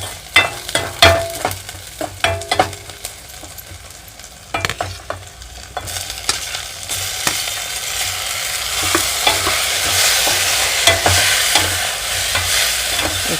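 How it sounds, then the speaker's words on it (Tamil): Onions and tomatoes sauté in a pan for a lake kendai fish curry, with sharp scraping and tapping strokes of a stirring spoon, then a fuller, steadier sizzle that builds toward the end. "நல்லா வதங்குது பாருங்க. இந்த தக்காளி இதில் நம்ம போட்டுருவோம்."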